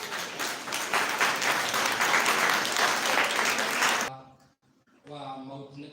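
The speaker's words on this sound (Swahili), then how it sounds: "Mmoja tu apigwe makofi." An audience at a career guidance session breaks into dense, loud applause for about four seconds, then it fades out and a voice begins talking.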